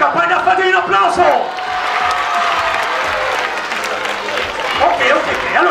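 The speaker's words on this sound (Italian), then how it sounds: "fatevi un applauso!" An audience at the opening night of the Riviera dei Cedri Cup tournament in Scalea claps and cheers in a dense, continuous wash of applause with scattered whoops and crowd noise, loud and close throughout.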